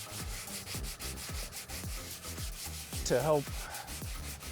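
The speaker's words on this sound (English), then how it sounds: "So the first thing is we want to sand this" Sanding pad rubbing over a worn, faded leather car seat in a steady back-and-forth rhythm of close scrapes, with a brief louder voice partway through.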